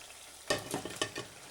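Spuds drop into a beef and ale stew pot after ten minutes of cooking, landing in a sudden clatter followed by a few splashing knocks and a soft sizzle, close and without speech.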